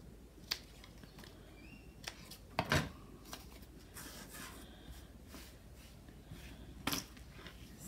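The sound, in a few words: cutting off paper tags with scissors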